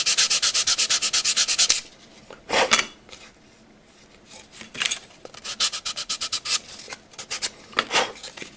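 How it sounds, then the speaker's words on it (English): A flat sanding block rubs back and forth across a hinge bevel in bursts of rhythmic, close strokes: a steady fast run, a short pause, then another series of crisp scrapes. "my sanding block, nice and flat, and sand it up to the line"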